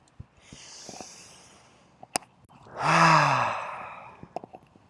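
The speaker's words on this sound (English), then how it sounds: "take a deep breath in" A deep inhale during a guided self-forgiveness tapping exercise, a single slow breath swelling for about a second and a half in the middle, close and clear, with a few small clicks and lighter breaths around it and no talking.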